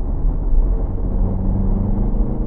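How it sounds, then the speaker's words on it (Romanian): A Mercedes-Benz GLA 200 CDI with a 7G-DCT gearbox and 4Matic drive, accelerating at full throttle in sport mode from about 70 km/h: a loud, steady diesel drone and rumble heard from inside the cabin, without speech. "Imediat ce ajungem la 70 de km pe oră, respectiv acum, voi accelera la podea."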